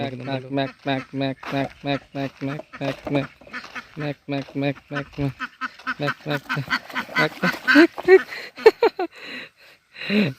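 A flock of ducks quacks in rapid, rhythmic bursts, loud and close, calls overlapping and growing busier toward the end.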